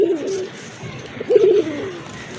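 Pigeons cooing at a Bangladeshi pigeon sale, a few soft, low throaty coos rolling out in two bursts, near and fairly clear against quiet background noise.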